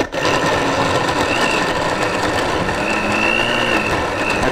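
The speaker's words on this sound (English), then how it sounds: "We're gonna blend it up." A kitchen blender runs steadily at full power, blending a soy sauce and jalapeño marinade for chicken. It makes a loud, unbroken whirring drone, with no talking.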